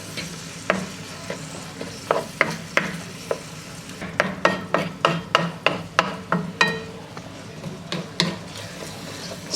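Ground beef with garlic powder sizzles in a pan while a utensil stirs it, giving steady frying hiss under repeated close scraping and tapping strokes against the pan.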